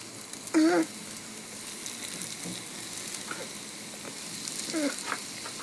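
Soft, steady sizzling of cheese sticks frying in oil in a pan, with a couple of brief tonal sounds near the start and end.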